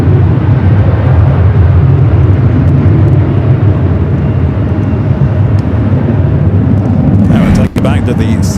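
An airliner departs Los Angeles LAX, its broad, steady engine roar loud and continuous, with a brief sharper burst near the end.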